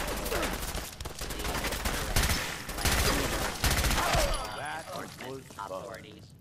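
Rapid bursts of gunfire from the video game Fallout 4, loud and dense for several seconds before tapering into scattered shots and clattering effects.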